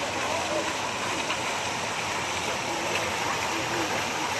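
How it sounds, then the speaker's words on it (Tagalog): Steady splashing and rushing water from a colorful fountain at night, a continuous close wash of sound with faint voices in the background. "Ang ganda ng fountain."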